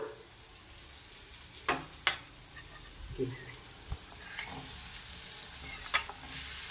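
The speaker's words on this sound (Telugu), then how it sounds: "వేగినాయండి సొరకాయ ముక్కలు వేస్తున్నా" Bottle gourd pieces sizzle faintly in a hot pan, a soft steady frying hiss broken by a few sharp clicks and scrapes of a spatula stirring, close by with no talk.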